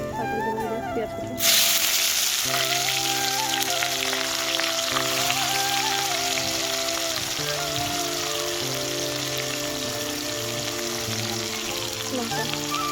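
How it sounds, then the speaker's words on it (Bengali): Chopped onion sizzling steadily in hot oil in a pan for a duck curry, a dense continuous hiss with faint spatters, close and fairly loud, starting abruptly after a short quieter opening. "তারপরে দেবো পেঁয়াজ কুচি।"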